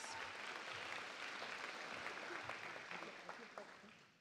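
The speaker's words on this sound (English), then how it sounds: "Yeah, round of applause, yes." A room full of people at a San Jose mayor's State of the City address claps steadily, a dense patter of applause that begins to thin out near the end, with some voices underneath.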